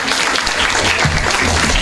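Audience at a student debate breaks into applause, a short, dense, fairly loud wash of many hands clapping together with no voices over it.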